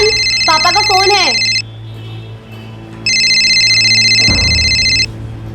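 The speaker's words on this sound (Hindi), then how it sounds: "पापा का फोन है" An incoming phone call from dad sounds as an electronic ringtone in two loud, bright bursts, each lasting about one and a half to two seconds, separated by a pause. A short voiced sound in the first burst and a low thump near the end.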